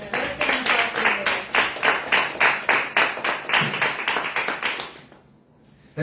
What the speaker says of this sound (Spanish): Let's stand and clap together.